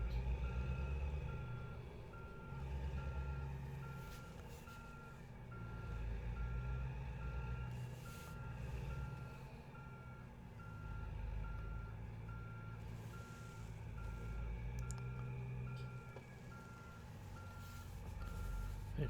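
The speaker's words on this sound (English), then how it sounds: "we're going reverse. How many reverse gears you got?" Steady, evenly spaced reversing beeps from a truck backing up, repeating throughout over a continuous low engine rumble, fairly close and loud with no talk.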